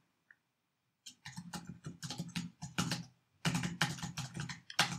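Typing on a computer keyboard, a close run of quick clicking keystrokes that comes in two bursts separated by a short pause, with one isolated tap just before the typing starts.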